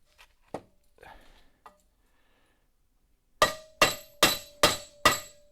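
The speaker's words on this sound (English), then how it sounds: "But that's hammering it back." A hammer strikes a drive shaft held in a garage vise, giving five sharp, ringing metallic blows in an even rhythm. A few fainter knocks and clinks come before them.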